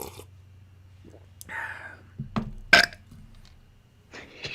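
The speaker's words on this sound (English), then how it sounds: "That was just heavy burps." A person lets out a heavy, deep burp. It comes as a short guttural burst after quiet breathing and faint mouth sounds, close up.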